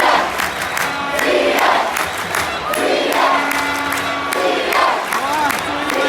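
Moroccan fans packed into a World Cup stadium in Qatar chant Chelsea player Ziyech's name, a dense, steady roar of many voices with rising and falling chant lines that continues throughout.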